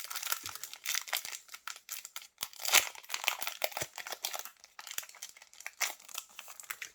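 A Pokémon Astres Radieux booster pack wrapper crinkles and tears open up close, a steady run of crisp plastic rustling with a sharper rip partway through, no talking.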